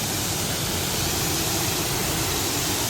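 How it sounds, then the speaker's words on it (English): A waterfall on the River Mirna pours in a steady, broad rushing hiss that stays constant and fills the whole stretch, with no voices heard. "So I actually made it to the first waterfall here."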